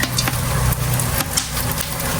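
Hot oil sizzles and crackles steadily as aromatics fry for chicken biryani, with a few sharper pops, close up and fairly loud.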